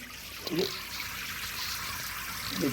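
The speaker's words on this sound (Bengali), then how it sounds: "দেখুন আমি দেখাচ্ছি কীভাবে উপচিয়ে জল পড়ছে" Water poured into a lotus tub spills over the rim and trickles out steadily in a soft, continuous wash, with a person talking over it.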